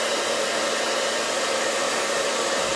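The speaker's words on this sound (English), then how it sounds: "he's the one who steals the blow dryer. So I have it on warm and I have it on high" A blow dryer runs on its warm, high setting, a loud steady whooshing roar with a constant motor hum and no talking.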